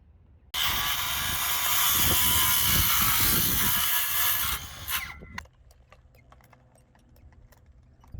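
A power tool drives bolts down on a self-sufficient home build, a loud continuous whirring burst lasting about five seconds, then cutting off to quiet ringing and faint background sounds.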